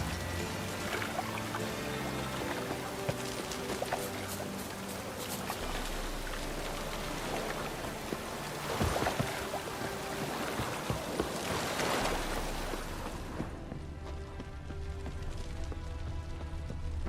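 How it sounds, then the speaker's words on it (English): Rain falling in the Witcher 3: Wild Hunt game world, a steady hiss of drops and pattering water running continuously under layered ambient tones, with a few louder splashes partway through. "Looks like rain."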